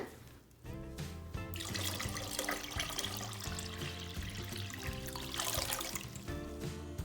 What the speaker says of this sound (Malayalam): ഞാനിതിലേക്ക് 3 ലിറ്റർ വെള്ളം ഒഴിച്ച് കൊടുക്കുകയാണ്